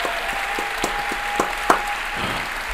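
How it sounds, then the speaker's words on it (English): Applause from a live-event audience at a League of Legends anniversary stream in Europe, continuous crowd clapping with occasional sharper claps and a faint whistle, heard alone without speech. "can we have a big round of applause for Brian, please, for joining us on stage?"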